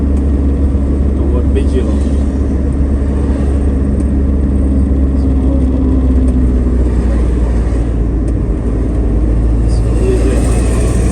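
Car driving along the OIC road toward Bijilo, a steady low engine and road rumble running throughout beneath continuous talk from people inside.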